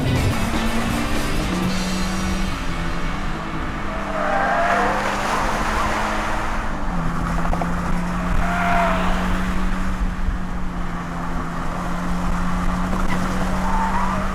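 A Toyota GT86 sports car laps a race track at speed, its engine holding a steady droning note while the tyres squeal and slide through corners. The sound is continuous, loud and close, with no talk.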